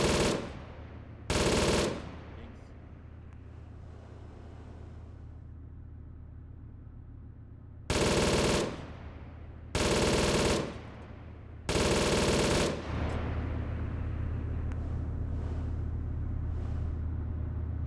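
Bursts of automatic gunfire in the military shooter game Arma 3, five sharp loud volleys of one to two seconds each, separated by pauses over a steady low rumble of engine noise.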